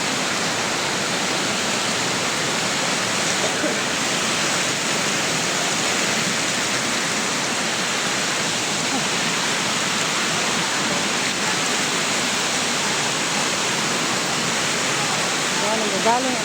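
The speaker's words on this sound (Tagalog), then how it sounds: "Dito pala guys, nagagaling yung kanilang water." Water pours steadily from a mountain spring source near Vigan, Ilocos, making a loud, continuous rushing hiss with no breaks, and voices faintly mixed beneath.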